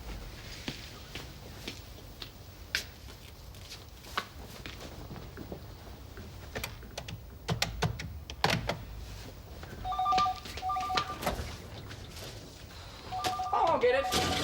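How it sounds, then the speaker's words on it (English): Telephone in a home, with sharp clicks of dialing and then trilling electronic rings in short bursts near the end, under a faint room background. "Could you give me the number that makes my phone ring so I can check it's working okay?"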